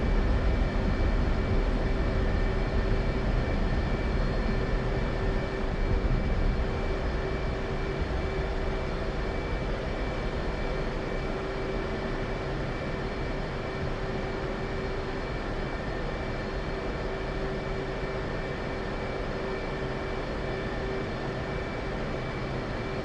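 An F/A-18C jet taxiing after landing in the DCS flight simulator gives a steady, loud engine roar with a sustained high whine, unchanging for the whole stretch, with no voices.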